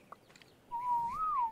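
A player character whistles in ARK: Survival Evolved, a single clear, sustained tone that holds steady and then bends upward before sliding back down, heard alone after a brief quiet.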